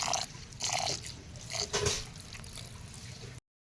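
Rice being washed by hand in water in a home kitchen, with soft sloshing, dripping and trickling bursts close by, stopping and starting over a few seconds.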